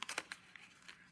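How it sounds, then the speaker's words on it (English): A paper box flap being folded down and in, giving a few quick, crisp rustles and crinkles at close range that fade into a soft paper whisper. "This part is going to fold down and in"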